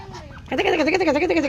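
A short burst of loud, nasal quacking from a duck, close by, following a faint tonal sound at the start.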